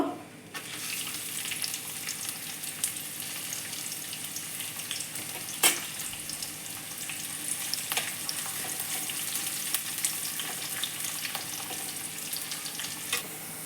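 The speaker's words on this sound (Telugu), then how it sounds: "ఉల్లిపాయ బాగా వేగింది" A medium-sized onion with tempering spices sizzles in a little oil in a pan on a stove, a soft continuous crackle with occasional stirring clicks and scrapes, close but fairly quiet, with no voices.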